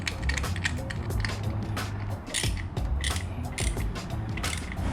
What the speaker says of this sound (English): So these are Torx bits, but they're really tiny Torx bits.